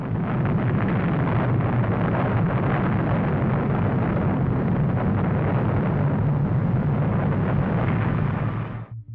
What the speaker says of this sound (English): As the morning came, the rocket launched.